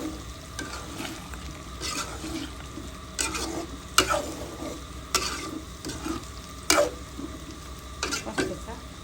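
Chicken gizzard and potatoes are stirred and sautéed in a pan, with a continuous soft sizzle and repeated scraping strokes of a spoon at irregular intervals, close and moderately loud.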